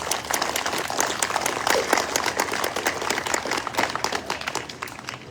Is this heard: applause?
yes